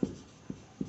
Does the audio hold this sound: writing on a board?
yes